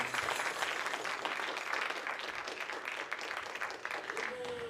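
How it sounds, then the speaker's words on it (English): An audience applauds two performers, Isa and Reina, after a drum and dance demonstration: a steady, moderately distant round of clapping that holds at an even level to the end. "let's give a round of applause, Isa and Reina"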